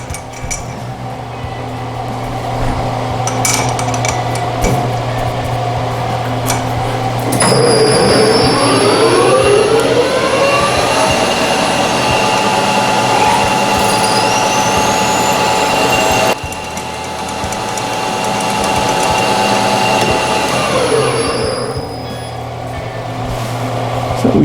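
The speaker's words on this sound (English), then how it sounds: "So we'll take and use our 1/4 inch drill" A 1/4 inch drill enlarges a hole in metal, giving a steady loud mechanical drone with squealing tones that rise in two long passes, no talking.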